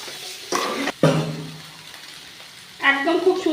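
Soybean chunks and potatoes being mixed in a pan with spices, a few scraping stirs and a soft sizzle, with a voice talking between them.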